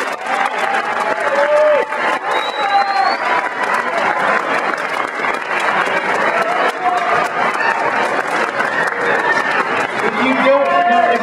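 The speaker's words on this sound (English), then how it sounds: "so you can give them a round of applause" A theatre audience applauds the cast of a community performance, with sustained, loud clapping and crowd noise filling the hall throughout, with some cheering and voices mixed in.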